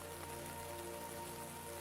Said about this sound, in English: the rain falls softly outside